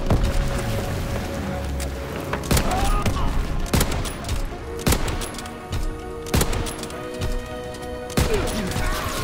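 Gunfire in a World War II video game, repeated sharp loud bursts and single shots at uneven intervals over constant battle noise and game sounds, fairly close.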